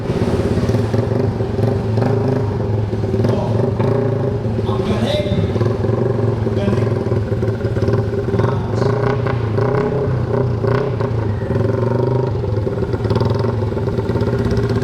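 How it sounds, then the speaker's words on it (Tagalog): Motorcycle engines idling and creeping along at a slow race, a loud continuous drone with steady low hum and occasional revs and clatter, while people talk over it. "halos hindi na umaandar yung kanilang mga motor"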